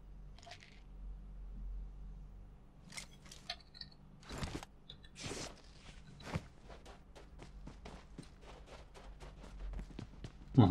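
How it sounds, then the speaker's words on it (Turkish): Footsteps in PUBG Mobile, a rapid series of soft, repeated steps drawing closer over several seconds, with no talking. "Şuradan ayak sesi geliyor ha"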